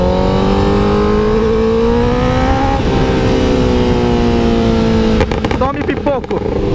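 A Honda CBR 1000RR Fireblade sport motorcycle revs hard and close, its engine note climbing in pitch and holding a loud, raspy howl before sharp blips of the throttle near the end.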